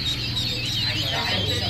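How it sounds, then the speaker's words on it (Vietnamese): Newly hatched super duck ducklings peep in dense, continuous high chatter from a large hatch, steady and close with no pauses, a low hum running underneath. "Đây em nở rất nhiều vịt nhá"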